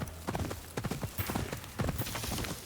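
Rapid hoofbeats of a galloping horse in Ghost of Yotei thud in a quick, uneven rhythm, close and fairly clear, with no talk.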